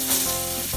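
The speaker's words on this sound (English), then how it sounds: "You can hear them sizzling." Cut-up pork chop pieces sizzle in hot grease in a pan, a loud, close, continuous hiss with a slight swell near the start, lasting under a second with no voices.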